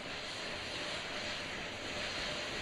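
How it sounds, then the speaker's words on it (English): Four RS-25 rocket engines, three of them Shuttle heritage units, starting up at the Artemis II launch, heard as a loud, continuous broadband roar that holds steady without break. "We are witnessing the engine starting from what it looks like."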